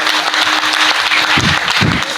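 Audience clapping at a Marathi devotional gathering for a saint's silver jubilee at a Dnyaneshwar Maharaj samadhi temple, a brief, steady wash of applause filling the whole moment with a couple of louder low thumps near the end.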